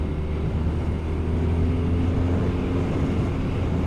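A BMW R 12 motorcycle engine holds steady around 5,300 RPM while cruising at 100 km/h, a continuous low droning hum with wind rush, loud and unbroken, with no speech over it.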